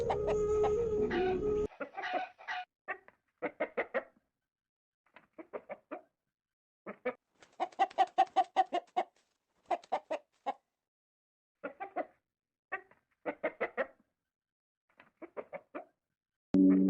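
A hen clucks in short, repeated bursts of clipped calls separated by brief silences, sounding close and clear, with a louder noisy passage at the start.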